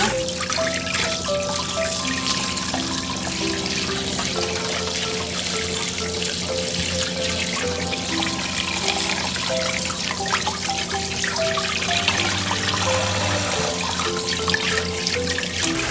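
Running tap water pours steadily over a whole chicken being rinsed clean in a kitchen sink for samgyetang, a continuous close splashing trickle with no speech.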